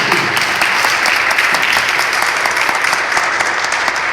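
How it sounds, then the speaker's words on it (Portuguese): A church congregation applauds together, loud and continuous dense clapping filling the room without pause, no voices standing out above it. "Então vamos aplaudir Jesus"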